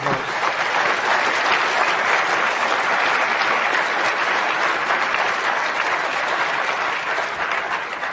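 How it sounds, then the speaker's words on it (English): Conference audience at an occupational health opening session applauding the panel members, dense, loud, sustained clapping from a large crowd holding steady throughout. "Please give them a round of applause."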